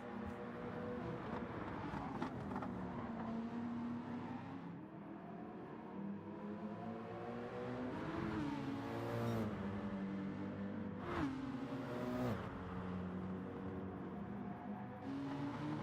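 A race truck's engine in Gran Turismo 7 on the Dragon Trail circuit, revving up and down through gear changes with rising and falling whine, loud and continuous with no talk.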